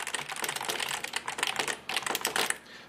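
Rapid, uneven clatter of keys typed on an old, cheap computer keyboard, close and fairly loud with brief pauses between bursts.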